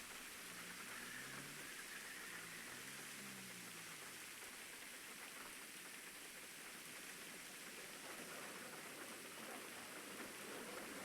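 Rain in the video game GTA Online, a steady hiss of falling rain that runs without break, soft and even, with faint low sounds underneath and no clear speech.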